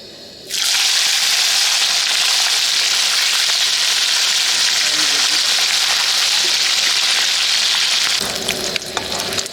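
Khoyra fish frying in a pan over an outdoor riverside fire, a loud continuous hissing sizzle that starts abruptly and runs steadily before easing off near the end.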